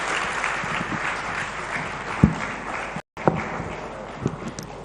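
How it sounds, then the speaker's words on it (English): A room full of people claps steadily after a live yoga-themed talk, a dense, even patter with a few louder individual claps and a brief dropout midway. "Big round of applause, ladies and gentlemen"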